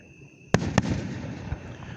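Fireworks at the 2021 Fourth of July show in Booneville burst in two sharp, loud booms about a quarter second apart, followed by a long rumbling echo and crackle. A softer thud comes near the end.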